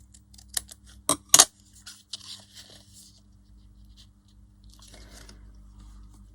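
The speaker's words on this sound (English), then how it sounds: "I'm going to just cut that off a little bit." Scissors snip through a paper book page, several sharp cuts bunched early, then softer rustling and handling of the paper, close and clear with no talking.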